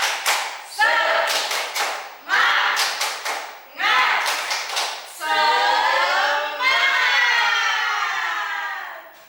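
A third-grade class claps in a quick rhythmic pattern, bursts of clapping separated by short pauses, followed by voices shouting together in a sustained cheer.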